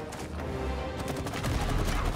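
Gunfire in the video game It Takes Two, a dense run of rapid shots crackling steadily for the whole moment at moderate loudness over game sound.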